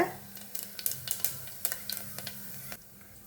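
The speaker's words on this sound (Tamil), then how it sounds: "லவங்கம் அதை எண்ணெயில் சேர்த்துக்கலாம் அது நல்லா பொறிஞ்சு வரட்டும்" Cloves and fennel seeds splutter in hot oil for a country chicken curry, a faint background sizzle broken by a scattered series of sharp little pops that fade out near the end.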